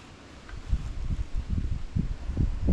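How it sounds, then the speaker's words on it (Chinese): Outdoor wind at a fishing spot: low, gusty buffeting rumbles against the microphone that swell and fade irregularly, fairly loud and close, with no voices. "这里风大，这里可以吹风啊，你知道吗？"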